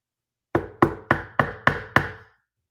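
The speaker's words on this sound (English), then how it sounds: "he knocked on wood, baby. Better knock on wood." Six sharp knocks on wood in an even, moderately quick rhythm, close and loud with short resonant decays, followed by quiet.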